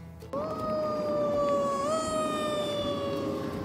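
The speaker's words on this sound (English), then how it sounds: "There's an ambulance coming, hold on." A wailing ambulance siren sounds loudly and steadily, its tone sliding down slightly as it passes by over traffic rumble.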